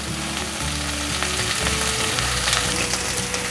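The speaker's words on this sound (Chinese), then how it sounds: "一样用中小火把苦瓜煎至有点微焦。" Bitter gourd pieces pan-fry over medium-low heat in a deep pot until slightly charred, giving a continuous close sizzle with faint crackles and no talking.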